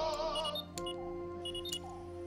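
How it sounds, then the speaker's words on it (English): A wristwatch gives a short series of faint, high electronic beeps in a quiet indoor setting, a few clipped tones spaced across about two seconds over a low background hum. "While dealing with dishes, Cliff's wristwatch also beeps"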